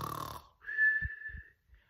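A storyteller's voice imitates a soldier snoring in a fairy tale, one drawn-out wheezing snore followed by a couple of short low snorts, heard alone and close.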